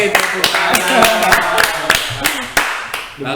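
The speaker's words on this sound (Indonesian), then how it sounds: "Wih, tepuk tangan." Several people in a podcast setting clap in quick, uneven bursts, sharp and close, mixed with some voices talking and laughing in between.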